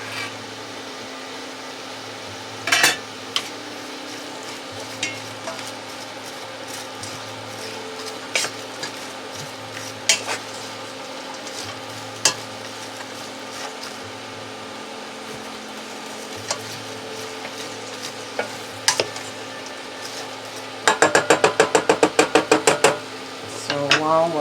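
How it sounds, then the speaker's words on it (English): Onions cook down in a pot on an induction burner, with a spoon knocking and scraping against the pot at scattered moments over a steady fan hum, then a quick burst of rapid tapping near the end. "So while we're caramelizing the onions, I'll turn you off"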